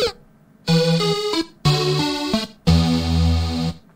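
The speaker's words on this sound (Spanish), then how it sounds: "por ejemplo el de die suena así." A Unity game's death sound: three chiptune-style electronic tone bursts, each a short stepping melody, the last one longer and sustained, with no talking.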